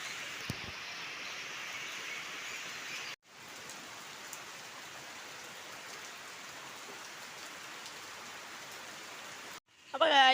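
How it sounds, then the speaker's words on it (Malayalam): Heavy rain pours steadily as a dense, even hiss close by, with brief breaks near the start and end, beside a guppy fish tank being cleaned and filled with water. "നല്ല മഴയാണ്, കുടയൊക്കെ പിടിച്ചുകൊണ്ടാണ് ഗൈസ് പോകുന്നത്"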